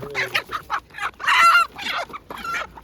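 Several laying hens at a market cluck and squawk close by in short bursts, one louder drawn-out cackle in the middle, with no talking.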